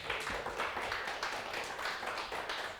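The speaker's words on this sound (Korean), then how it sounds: "이럴 때 하나님께 영광의 박수를 올려드려야 돼요." A church congregation claps together in a dense, fairly soft patter of many hands that runs steadily for the whole moment, heard from a slight distance with no voices over it.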